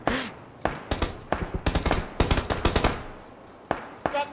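Rapid bursts of video game gunfire in a Tales of Grassle livestream, several short clusters of shots at close range, loud and crackling, with brief gaps between volleys.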